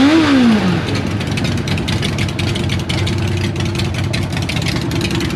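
A Suzuki Katana motorcycle gives a quick rising rev at the start, then drops to a steady, loud, rumbling idle that continues close by without speech.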